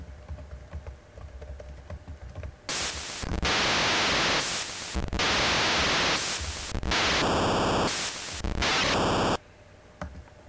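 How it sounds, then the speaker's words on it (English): White noise from the LSDJ noise channel on a Game Boy tracker, a loud harsh static hiss that cuts in after faint background and shifts in tone and texture as S shape commands warp it, with brief dropouts, then stops. "So you can hear some basic white noise there, and as you run S commands on it,"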